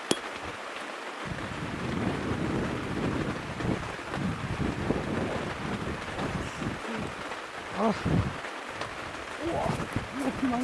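Heavy rain pours onto a one-touch pop-up tent (Polaris P1 Compact) during a camping trip in a downpour with strong wind, a dense continuous roar with gusty swells and occasional voice.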